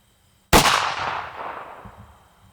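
A single loud, sharp shot from a hand-made double-barrel pistol, close by, with a long ringing decay that fades over about two seconds.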